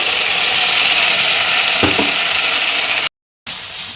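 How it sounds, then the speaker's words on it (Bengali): Potatoes and spices fry in a hot pan with a steady, loud sizzle, a brief scrape of stirring near the middle and a short dropout toward the end before the frying resumes. "মশলাটার সঙ্গে ভালোভাবে একটু কষিয়ে নিচ্ছি"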